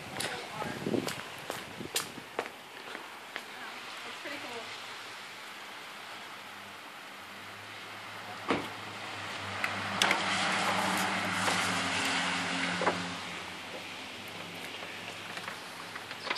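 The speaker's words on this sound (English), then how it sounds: "It's raining." Rain falls steadily at sunset in a soft, hissing wash, with occasional nearby taps and a brief low rumble of passing traffic.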